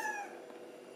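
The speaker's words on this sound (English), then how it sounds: "But no, Kitty, you can't jump on a besta" A cat gives a single short meow up close, fairly faint and fading quickly against a quiet indoor background.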